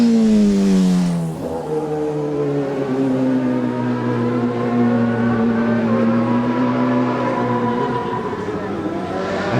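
A racing motorcycle roars past during the 2010 Manx Grand Prix Senior race. The engine is loud and close, its revving pitch sweeping down as the bike passes and then holding a high drone as it pulls away.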